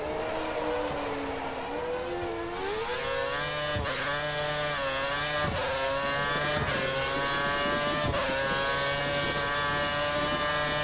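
Formula 1 race car from the F1 2013 video game at the Shanghai track, its engine whining steadily at high pitch with rises and falls as it shifts and accelerates, loud and continuous without talking.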